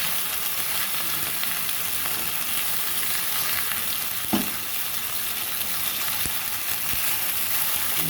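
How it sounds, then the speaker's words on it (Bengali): Chicken pieces for a sandwich fry in a pan with a continuous, even sizzle. A single soft clatter and a couple of faint clicks break the sound, and no one speaks. "আমি সিদ্ধ করছি না আজকে ভেজে নিচ্ছি"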